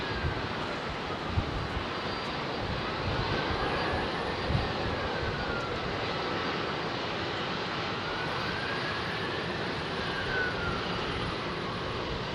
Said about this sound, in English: GE 90 powered big jet.